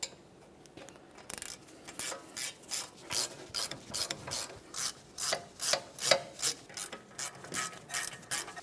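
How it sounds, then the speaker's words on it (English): A wrench ratchets rapidly and evenly, tightening the front wheel hub bolts on a 1994-1997 Honda Accord during a wheel bearing and hub replacement, with many crisp repeated clicking bursts, close and clear. "we'll snug them up and then torque them to 33 foot-pounds"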